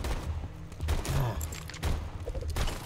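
Rapid gunfire bursts from the Borderlands 2 video game, loud and close, clustered volleys over a busy game soundscape with a brief voice.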